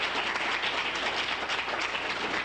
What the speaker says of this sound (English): let's give the brother a round of applause